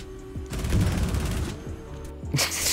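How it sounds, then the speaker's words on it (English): Gunfight in the video game Rainbow Six Siege: a dense fusillade of rapid gunfire bursts runs loud and close for about a second, then quieter scattered shots and booms follow before a final sharp burst. "Probably the worst gunfight of all time."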